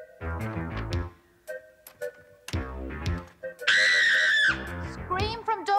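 A girl screaming during a game at a witches' school, a long high-pitched shriek following bursts of music, with shrill whistling tones around it.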